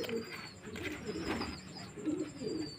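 Pigeons cooing nearby in a steady repeating low burble, several soft coos overlapping with a faint background hiss and no speech.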